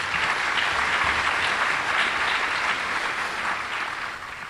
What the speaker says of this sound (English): another round of applause for those folks